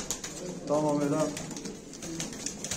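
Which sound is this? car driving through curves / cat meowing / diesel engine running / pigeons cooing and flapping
pigeons cooing and flapping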